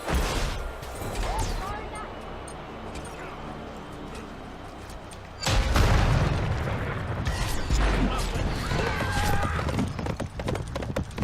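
Horse hooves clip-clop during a match of the video game Smite, rhythmic hoofbeats mixed with battle booms and impacts that get louder partway through, while a player talks over the action.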